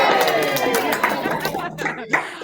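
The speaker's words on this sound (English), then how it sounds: "Big cheer for your school and your teachers." Lovinggood Middle School students cheer and clap in a lively indoor crowd, a dense wash of voices and applause that fades toward the end with scattered claps.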